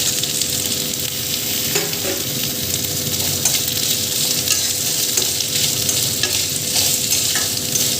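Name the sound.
potatoes frying and stirred in pan with drumsticks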